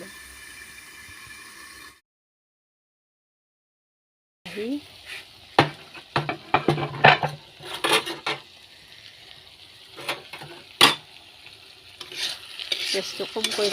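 Tomatoes and fish frying in a pan over low gas, with a soft sizzle and repeated scrapes and clinks of a spoon stirring against the metal; a short silent gap precedes the cooking.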